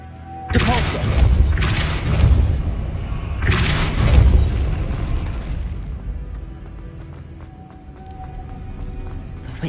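A Depulso force spell cast in Hogwarts Legacy: a few heavy booming thumps in quick succession, loud and close, fading into quieter ambient tones and a faint high whine.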